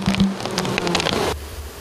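Honeybees at an apiary in the Kosikha district, buzzing loudly right at the microphone with a dense, continuous drone that cuts off abruptly near the end.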